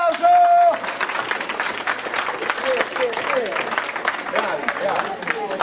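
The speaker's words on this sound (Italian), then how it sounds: "Fategli un applauso!" Audience applause closing an Italian hip hop writing workshop, a steady patter of many hands clapping that is briefly overlapped by a voice at the start, with other voices and cheers mixed in throughout.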